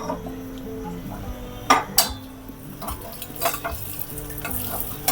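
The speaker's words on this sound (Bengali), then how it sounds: "এখন এটাকে একটু হালকা হলুদ আর মরিচ গুঁড়ো দিয়ে পনিরটাকে একটু ভেজে নিব।" Cubed paneer fries with turmeric and chili powder in a pan, a low sizzle under clinks and scrapes of a spatula stirring against the metal, with a few sharper knocks.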